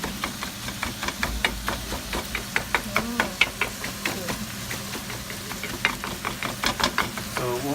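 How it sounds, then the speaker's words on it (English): Ground meat for bolognese fries in a pan under a steady sizzle as a utensil breaks it up with rapid, rhythmic scraping and tapping strokes close by. "just breaking the meat up into little pieces while it's cooking"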